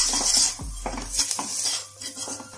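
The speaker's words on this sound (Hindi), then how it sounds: "इसको हल्का सा सॉटे करेंगे।" A spoon scrapes and clinks in a pan while a spiced mixture of turmeric, coriander powder and salt is stirred and sautéed, with soft sizzling underneath and no talk.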